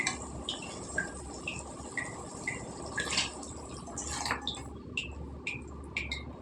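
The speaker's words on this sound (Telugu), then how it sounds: "ఇప్పుడు కొద్దిగా నీళ్ళు వేసుకుందాం అండి" Water trickles into a cooking pot of broad bean curry with soft, bubbly plinks and drips repeating irregularly, fairly quiet and close, with no voices.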